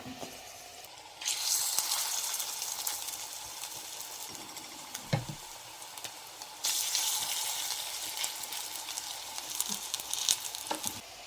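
Oil sizzling and crackling steadily in a pan as anchovy corn bread fries, surging louder twice as more food hits the fat, with a few soft clinks of a utensil.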